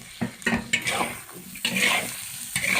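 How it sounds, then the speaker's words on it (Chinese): Duck pieces and dried chilies stir-fried in a wok, with a spatula scraping and clanking in several sharp strokes over a steady close sizzle of hot oil. "咱们还是现在再加这个小米椒鸡脆、干辣椒、小米干辣椒，来，加这个"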